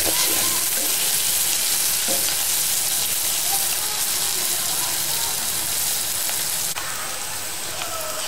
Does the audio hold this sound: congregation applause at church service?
no